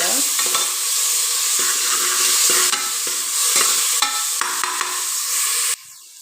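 Onions frying in a pan in a traditional Kundapura home kitchen, a loud continuous sizzle broken by scraping stirs, cutting off abruptly near the end.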